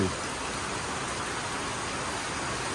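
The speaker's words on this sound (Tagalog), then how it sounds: "Minsan sobrang lakas ng ulan." Heavy rain pouring down, a dense, even hiss that holds steady throughout, with no voices.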